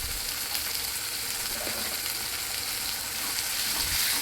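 Onions and dried red chillies fry with turmeric for a spicy chicken fry, giving a continuous close sizzle with a faint stirring texture throughout, steady and alone.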